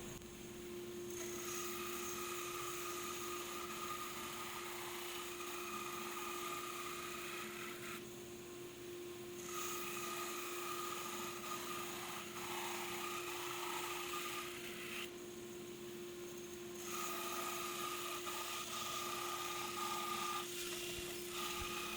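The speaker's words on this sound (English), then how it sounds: "We then took each one of the veneers and ran them through his drum sander just to guarantee a uniform thickness" Wood veneers feeding through a drum sander for uniform thickness: a steady, loud abrasive rasping drone with a constant motor hum beneath, easing briefly between passes before each new veneer is run through.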